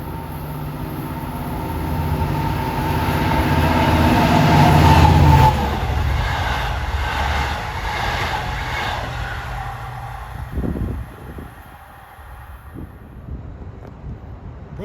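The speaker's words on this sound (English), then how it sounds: "And roaring east at 6:39 is train 22, Jamaica to Montauk. Picking up speed on number 1 track." A Long Island Rail Road train roars past on the number 1 track, eastbound from Jamaica to Montauk and picking up speed. A loud, rumbling rush with rhythmic clatter builds, peaks, then fades into distant rumble.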